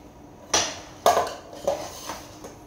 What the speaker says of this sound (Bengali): দুটো কাপ নিয়ে চলে এসেছি, 2 কাপ বানাবো কফি।